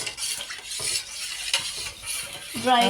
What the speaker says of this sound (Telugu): ఇలాగా కలుపుకోవాలి